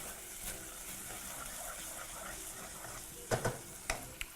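Ingredients for a vegan butternut squash curry sizzle faintly in a pan under a quiet, steady hiss, and near the end a few sharp clanks of a utensil stirring stand out.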